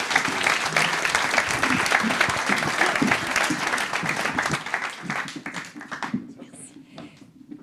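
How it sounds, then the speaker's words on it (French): Applause from an audience at a conference on biowaste and the circular economy, dense steady clapping filling the room before tapering off near the end. "Si vous pouvez les applaudir"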